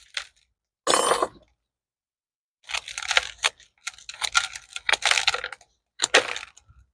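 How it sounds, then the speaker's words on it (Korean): Knife or shears cut through the dense, root-bound root ball of a spring-autumn growing succulent during repotting, giving a sharp snip followed by several scraping, crunchy tearing bursts, close and fairly loud with no talk. "한번 잘라 볼게요."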